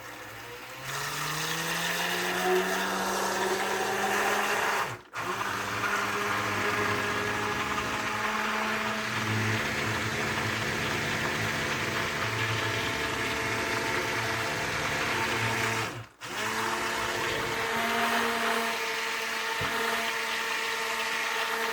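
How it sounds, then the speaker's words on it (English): A handheld stick blender motor whirs steadily and loudly for the whole stretch while mixing goat's milk soap, cutting out briefly twice before starting up again. "now it's time to get my stick blender and get this going"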